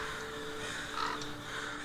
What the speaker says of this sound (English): the entire forest was full of the haunting sounds of crows